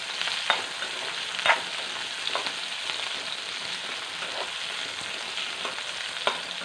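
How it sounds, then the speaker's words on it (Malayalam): Onions sautéing in a pan for a papadum side dish, a steady soft sizzle with a few light stirring scrapes at intervals, close and without talk. "ഉള്ളി വഴന്നിട്ടുണ്ട്."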